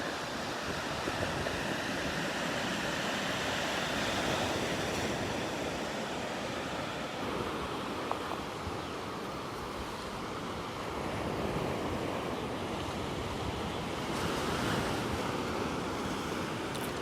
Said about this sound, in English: And we've got 1 foot waves.